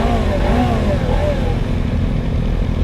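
A Suzuki GSX250R motorcycle engine and exhaust hum steadily at a low, fairly quiet idle-like rumble with a slight rise in pitch early on, heard up close among other motorcycles.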